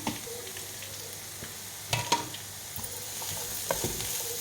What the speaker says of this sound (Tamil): இப்போ நம்ம கட் பண்ணி வச்சுருக்க குடமிளகாயும் முட்டைக்கோஸும் சேர்த்துக்கலாம்.